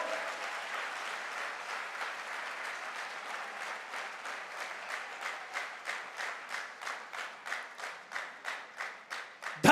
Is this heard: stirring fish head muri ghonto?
no